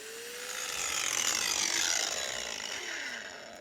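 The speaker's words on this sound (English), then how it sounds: "this is what we call a cup grinder blade. This is steel with chunks of diamond in it." A diamond cup grinder whirs against concrete, smoothing ridges with a harsh, gritty high-pitched rasp, rising slightly then easing off over a few seconds, no voices.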